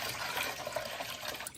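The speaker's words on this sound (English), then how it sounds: "That's water draining through the weep holes" Water drains through weep holes ringed with pebbles in a tiled shower, giving a steady close trickle and splash that runs without a break.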